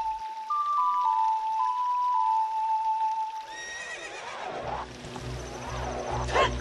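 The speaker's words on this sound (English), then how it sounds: "You also have a horse which you can call on at any time you want." A horse neighing in the N64 game Zelda Ocarina of Time: a whistled ocarina tune first, then a loud whinny with trailing snorts and hoof sounds.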